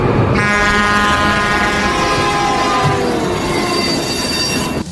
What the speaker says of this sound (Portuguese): era apenas um trem passando por ali